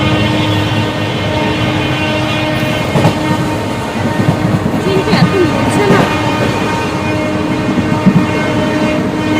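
A train runs past in the dark near a fair, its heavy continuous rumble and rattle loud and steady throughout, with a horn-like tone and faint voices mixed in.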